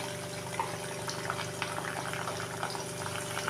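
Ginger and garlic paste sautéing with fried onions in a pan for a ridge gourd, potato and prawn curry, giving a steady, close, continuous sizzle with no talking.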